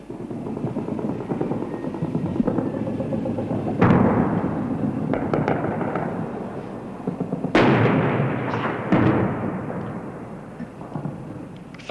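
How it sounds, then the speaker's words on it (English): Artillery fire in Amman, Jordan, with the army shelling the city centre from hills near the Royal Palace. Heavy booms, two sharp and prominent, break through a continuous rumbling din of distant firing, with no talk. "the Royal Jordanian Army began firing its artillery into the center of Amman"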